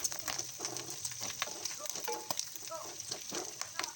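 Pork liempo frying in a pan as butter goes in, a close crackling sizzle with sharp pops and light stirring scrapes over a steady hiss, no talk.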